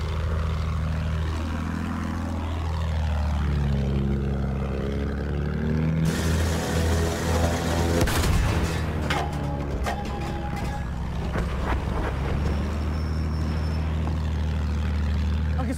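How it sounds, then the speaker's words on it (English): A propeller warplane sweeps past in Battlefield 1 gameplay, its engine drone rising and falling as it passes nearby, over constant battle background noise. "passing a plane"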